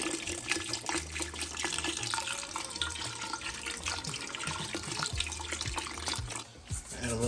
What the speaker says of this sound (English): we're gonna add 4 cups of water and 4 cups of chicken stock